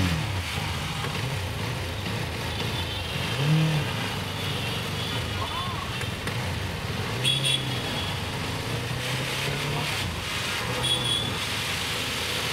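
An engine running rough on bad oil, a steady low mechanical drone with uneven throbbing and occasional surges, close and continuous, with faint voices underneath.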